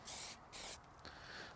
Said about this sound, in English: I mean, just like you were spray painting.